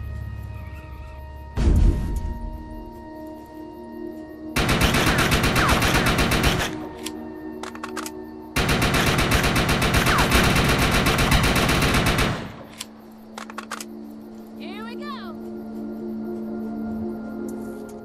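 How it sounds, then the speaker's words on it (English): Automated guns in a video game firing in long sustained bursts, two heavy stretches of rapid machine-gun fire of about two and four seconds each, loud and steady against a humming background. "Those guns are gonna keep firing until we shut down the generator"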